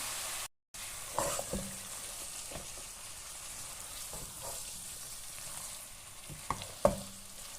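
Boiled meat and peas stir-fried in a pan for spring roll filling: continuous close frying sizzle with scattered stirring scrapes and clacks, a louder knock near the end.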